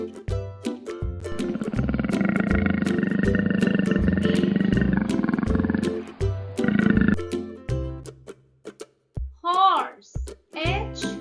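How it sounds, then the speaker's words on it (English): Leopard roaring: a sustained, rasping growl dominates the first six seconds over light background music, followed by shorter grunting bursts and a few brief sounds near the end. "Leopard."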